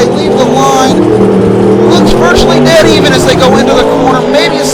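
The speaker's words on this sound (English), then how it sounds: "You hear Zimmer on the rev limiter" Monster truck engines roar and rev near the rev limiter during an arena race in Minneapolis, a loud, sustained mechanical drone with shifting pitch, while an announcer talks excitedly over it.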